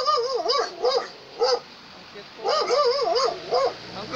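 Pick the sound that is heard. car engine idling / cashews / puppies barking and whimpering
puppies barking and whimpering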